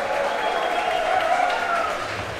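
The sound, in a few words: crowd applause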